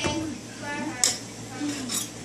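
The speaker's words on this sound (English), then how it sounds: "Just give it one more little stir." A spoon stirs seafood soup with okra in a pot over a stove, giving soft scraping and a few sharp metallic clinks against the pot under quiet background noise.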